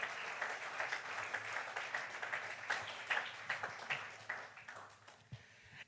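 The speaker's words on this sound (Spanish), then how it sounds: "Denle un aplauso a Jesucristo" A church congregation in Spain claps during a Sunday morning sermon, a moderate, slightly rhythmic wave of many hands that gradually thins and fades toward the end.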